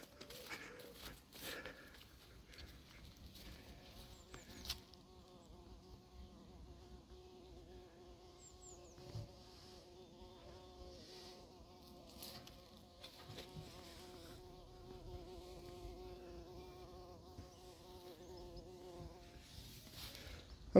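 A bumblebee buzzes faintly with a droning hum that wavers in pitch as it moves about, set against quiet outdoor background noise at an apiary.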